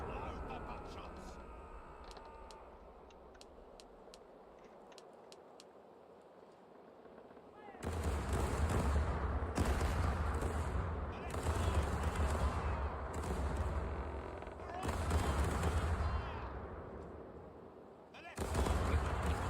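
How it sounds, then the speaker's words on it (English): Ship cannons firing buckshot in a broadside in the video game Caribbean Legend, heavy booming blasts that follow quieter ambience, with several loud overlapping volleys and rumbling decay, then a final burst. "The left side, ready to fire. Load the buckshots."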